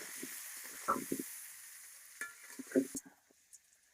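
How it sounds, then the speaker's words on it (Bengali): Quiet hiss of potatoes with salt and turmeric frying in oil until reddish, interrupted by a couple of scraping stirs and brief clatters before the sizzle fades. "আলু লাল লাল করে আমি তেলে ভাজা নিলাম"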